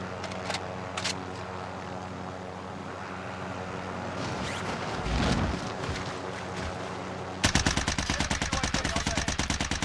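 Video game gunfire cracks out as a dense, rapid burst of shots near the end, following a stretch of mixed game noise and rumble.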